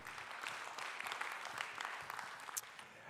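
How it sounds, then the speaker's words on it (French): Applause from an audience at the Trophées Patrimonia awards ceremony, a steady spread of clapping that fills the room for a few seconds at moderate loudness, without talk over it. "On peut vous raccompagner dans la salle sous les applaudissements"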